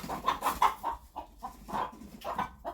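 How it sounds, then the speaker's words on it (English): A rooster on a farm gives a string of short, throaty clucks in uneven bursts, fairly close and moderately loud, with no talk. "Look at the rooster."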